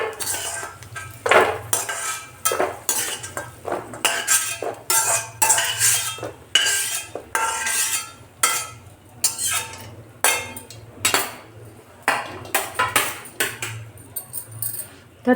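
Roasted dry fruits are scraped from a metal pan onto a plate: a steady run of close clinks, knocks and scrapes of a spoon on metal continues in uneven bursts.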